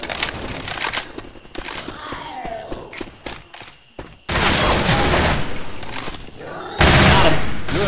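Dense bursts of automatic gunfire in Left 4 Dead 2 on Swamp Fever, loud and sustained with brief lulls, then a heavy renewed volley near the end.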